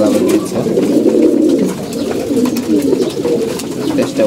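Pigeons kept in a loft coo in low, rolling, overlapping calls, close and fairly loud, continuing steadily without a break.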